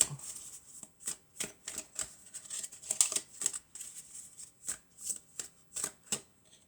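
Tarot cards shuffled and drawn by hand in a steady run of crisp, riffling flicks and slaps, close and clear, with no voices.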